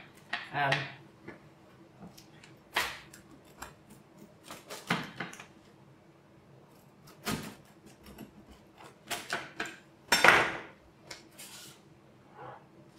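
A pizza wheel rolls through a cooked pizza, producing intermittent crunchy cutting strokes and board clicks up close, with a person talking between the cuts.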